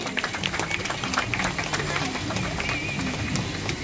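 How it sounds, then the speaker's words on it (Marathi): An audience claps at an Ambedkar Jayanti celebration in a Virar housing complex, producing a dense, continuous crackle of many hands that holds steady throughout, with some voices mixed in. "सर्वांनी जोरदार टाळ्या वाजवायच्या आहेत"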